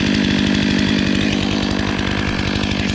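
A Stihl MS 500i wrap-handle chainsaw eases through a huge white oak log, its engine a loud, steady, close buzzing drone under load with no pauses for the whole stretch.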